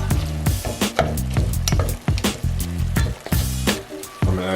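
Filling for stuffed shells browns in a pan with a loud, close sizzle, broken by repeated scraping stirs and sharp clacks of a utensil.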